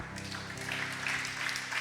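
Applause from an audience fills the room, a steady wash of clapping with a low musical drone underneath, moderately loud throughout.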